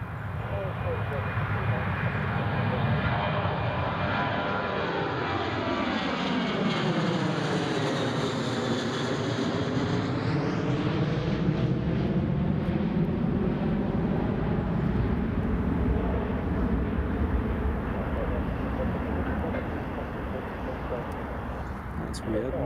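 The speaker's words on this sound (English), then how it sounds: "Here's the Ryanair departing." A Ryanair airliner departs Newcastle International Airport, its loud, continuous jet roar swelling and sweeping in pitch as it passes, then holding a steady rumble to the end.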